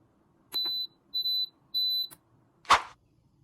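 Three electronic beeps from an electric pressure cooker starting a pressure-cook cycle with mung beans, each about a third of a second, evenly spaced, followed by a short soft thump. The room is otherwise quiet.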